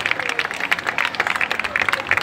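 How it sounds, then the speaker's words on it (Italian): Audience applause at the San Felice art festival, a dense, steady patter of many hands clapping at once, sustained and fairly close throughout with no pause. "applauso."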